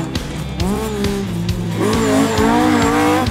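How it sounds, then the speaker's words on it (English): A loud Datsun 1600 rally car with an SR20 engine revving hard up and down through the gears, close by, with gritty exhaust and occasional tyre noise, at a tarmac rallysprint. "it actually still sounds like a Datsun 1600"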